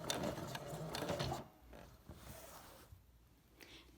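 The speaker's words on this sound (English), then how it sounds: "I'm just going to carefully and slowly sew this opening shut." A sewing machine slowly stitches shut the opening of a throw pillow, a faint close mechanical whir that runs for about a second and a half before fading into quieter handling noise.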